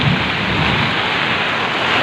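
Heavy rain pours during a typhoon in a dense, constant roar that stays loud and unbroken throughout, with no voices.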